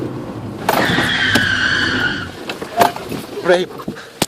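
A learner driver's car on a first driving lesson squeals its tires across the road surface in a sustained, loud screech lasting over a second, followed by scattered knocks and a brief voice.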